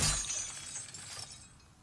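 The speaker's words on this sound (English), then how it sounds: "2 bodies fell." A sharp crash that trails off into a short clattering decay as bodies fall in Demon's Souls on PS5, loud at the start, then fading quickly with no voices.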